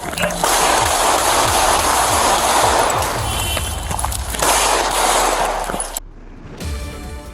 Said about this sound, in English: As shots rang out, officers Lopez and Ortiz Bonilla arrived in a marked NYPD vehicle